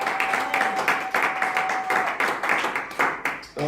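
Applause from a crowd, steady and fairly loud, with overlapping claps filling the room and a faint sustained tone running through part of it.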